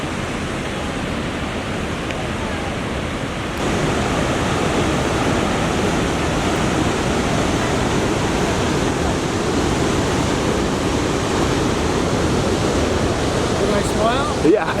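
Glacier-fed river rushing steadily past, a broad loud roar of water that grows fuller after a few seconds and continues unbroken.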